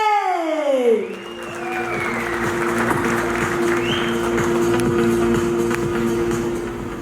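An audience at a teaser event for the film UI applauds Shivanna, a dense, sustained burst of clapping and crowd noise that swells after the first second and runs steadily over a low musical drone.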